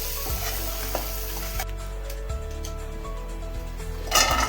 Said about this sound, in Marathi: खोबरं भाजून घेऊ।